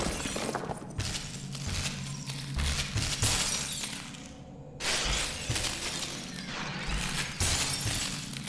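Glass-like red enemies shatter in the video game SUPERHOT, with loud crashing breaks and tinkling debris bursting repeatedly over dense action effects, one smash after another.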